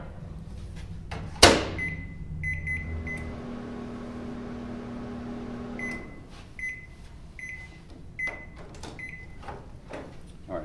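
A microwave oven hums steadily after a sharp click, running for a few seconds before stopping, followed by quiet beeps and light handling noises.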